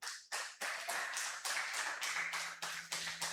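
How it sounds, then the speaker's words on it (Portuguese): A church congregation claps during a prosperity sermon, a quiet, uneven patter of separate hand claps in loose rhythm, no voices over it. "dá uma salva de palmas"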